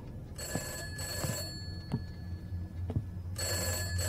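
In the video game Summer 58 a telephone bell rings in three bursts, each a bright metallic trill, with heavy footsteps thudding in the pauses between rings.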